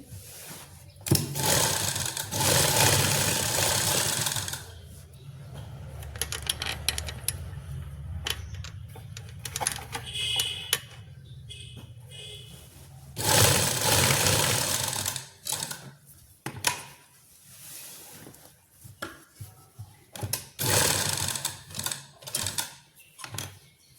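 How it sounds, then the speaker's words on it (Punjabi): An electric sewing machine stitches around a salwar pocket in loud rapid bursts separated by quieter pauses, with faint ticking between runs. "ਆਪਾਂ ਨੇ ਇਹਦੇ ਆਲੇ ਦਾਲੇ ਸਲਾਈ ਲਾਉਣੀ ਹੈ"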